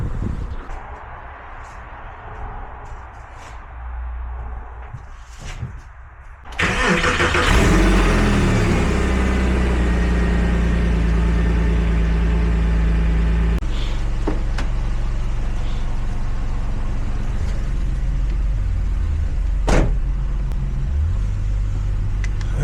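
A Porsche 996 Targa's engine starts after some quiet outdoor noise and then runs steadily with a deep, loud rumble. A few revs and small shifts in pitch come as the car sets off on a cold day.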